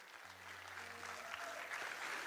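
An audience applauds at a Monagas Sport Club presentation event, a fairly faint, even wash of clapping with a low musical hum running underneath.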